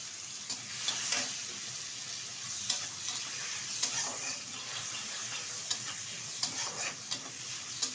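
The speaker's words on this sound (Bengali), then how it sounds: "এটা এখন ঢেলে ভেজে নেব।" Cleaned prawns with turmeric fry in oil in a wok, a soft continuous sizzle with sharp spatula clicks and scrapes every second or so, fairly quiet and without talk.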